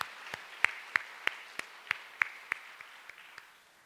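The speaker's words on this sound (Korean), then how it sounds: "이쯤 되면 하나님께 영광의 박수 올려드려야 됩니다" In a Korean church service, a congregation claps in a slow, even rhythm, with distinct single claps spaced about a third of a second apart that fade slightly toward the end.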